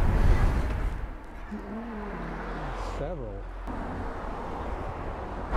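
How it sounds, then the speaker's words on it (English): A car rumbles closer along a residential street in 's-Hertogenbosch, Netherlands, its low engine noise swelling beneath a few short spoken exchanges. "But there's a car coming."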